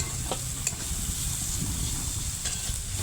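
Grated carrot and chopped green chilli stir-frying in a pan, a continuous close hiss of sizzling oil with a few light utensil taps, no talking.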